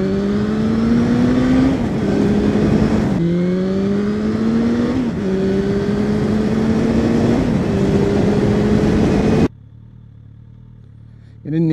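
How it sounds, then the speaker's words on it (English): Suzuki Bandit 1200 motorcycle, first-generation model, with a loud throaty exhaust revved repeatedly in rising bursts while stationary, each climb of revs dropping back before the engine cuts to near quiet near the end. "Shall we have a little listen to this exhaust?"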